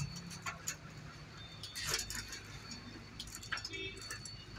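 Faint metallic clicks and ticks of a bicycle derailleur shifting gears on a workbench, several quick clicks spread across the moment.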